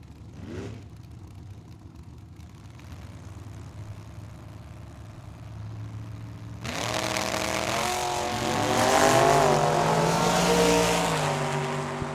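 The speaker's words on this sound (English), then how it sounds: "left lane in the Duster. Right lane, we got a dragster." Drag race launch at Tucson Dragway, a Plymouth Duster against a dragster: a low idle rumble, then a sudden loud roar of engines accelerating away with rising, sweeping pitch that swells and holds near the end.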